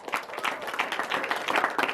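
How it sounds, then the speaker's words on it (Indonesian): Audience applause fills a seminar hall at a talk on Indonesia's Law No. 8 of 2016 on persons with disabilities: dense, steady clapping from a crowd, fairly close, with no talk over it. "Kasih tepuk tangan."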